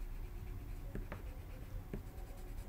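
A pencil rubs softly across paper while pale pink is being colored in, a faint continuous scratching with a few sharper strokes, quiet and close.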